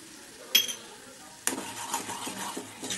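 A spoon clinks against a pan as tomato sauce is stirred after adding vinegar, with a sharp metallic tap followed by a soft sizzle and scraping stirs, close and fairly quiet.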